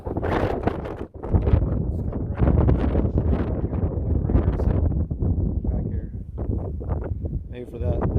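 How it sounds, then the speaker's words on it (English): Strong wind buffets a cattle panel greenhouse and the microphone, a continuous loud rushing roar with gusts throughout, while a person talks over it. "It is very windy."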